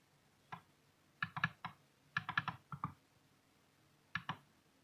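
Faint computer clicks and keyboard taps come in small irregular clusters: a single click, then a run of several quick taps, another group, and a final pair. The room is otherwise quiet and nobody speaks.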